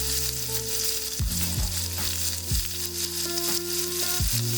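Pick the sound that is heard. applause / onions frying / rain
onions frying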